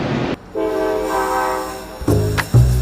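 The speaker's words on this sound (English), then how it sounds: "As the train rolls off from Toronto to Ottawa" A passenger train leaving Toronto for Ottawa sounds a long, loud, steady horn blast, followed by a couple of shorter sharp horn toots, close by over the rumble of the rail cars.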